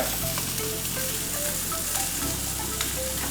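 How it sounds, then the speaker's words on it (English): Salmon fillet sears in a hot pan just after flipping, a close, even sizzle and crackle with stirring or spatula sounds, steady throughout. "We're gonna give this one a little flip. Right back on there."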